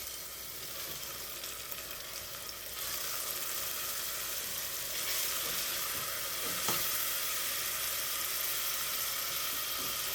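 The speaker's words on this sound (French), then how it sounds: "je mélange un peu mes oignons" A pan of onions sizzles steadily as they fry, growing louder partway through, with occasional scraping and stirring sounds; no voices.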